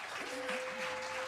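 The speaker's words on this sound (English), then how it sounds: "Let's give them a round of applause" Audience applause for a Polynesian dance group at a live concert, soft and fairly distant, with a steady tone and faint voices underneath.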